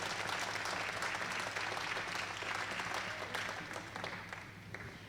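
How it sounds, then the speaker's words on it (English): An audience at the 2021 AOA National Alpaca Show claps for the champion Suri males, a full, continuous round of applause that gradually thins and fades over the final seconds. "So let's give these guys a really big round of applause."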